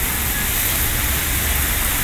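Steady, dense hiss of rain falling continuously at sunset in São Vicente on the São Paulo coast, loud and close, with no voices or pauses.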